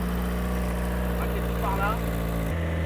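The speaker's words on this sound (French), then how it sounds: "on entend bien que le moteur est à l'arrière" A rear-engined Renault Clio Williams idles with a steady low hum and a voice talking over it; the rumble shifts lower near the end.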